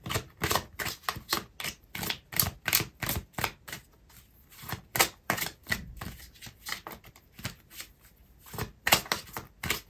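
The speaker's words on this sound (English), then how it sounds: "I'm going to pull out another card for you" A tarot deck is shuffled by hand in quick, rhythmic bursts of riffling card noise, close and crisp, with brief pauses before a card is drawn.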